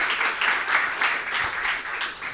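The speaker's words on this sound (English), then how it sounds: "a round of applause for an excellent presentation" Audience applause for a conference presentation on voicemail innovation, a steady wash of many hands clapping at moderate distance, holding evenly throughout with no voices.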